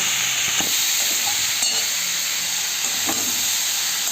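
Mixed vegetables sautéing in oil, a constant bright hiss and sizzle with occasional stirring knocks, heard close with no voices.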